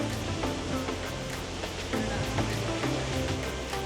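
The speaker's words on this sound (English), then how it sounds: "there goes the big splash in the bucket" A big water bucket tipping and splashing at a cruise ship water park on the Carnival Panorama, a steady heavy rush of pouring water close by and alone.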